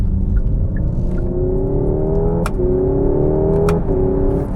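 Hyundai Ioniq 5N electric car accelerating hard with its simulated engine sound, a loud continuous synthetic roar climbing in pitch through stepped, gear-like shifts, with no talk over it.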